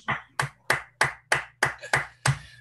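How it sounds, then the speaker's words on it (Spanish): Clapping after a seminar talk on physical virology: eight sharp, close hand claps in a steady, even rhythm, sounding like a single person rather than a crowd, with no talk. "aplaudiendo de, forma habitual o de forma electrónica"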